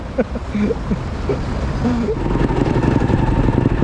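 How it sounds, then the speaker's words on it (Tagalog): A motorcycle engine started while standing in flood water runs with a steady, rough idle rumble that swells slightly, while people talk and laugh nearby. "Ayan, napandar natin itong motor"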